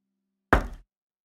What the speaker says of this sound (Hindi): कोई दरवाजा खटखटा रहा था।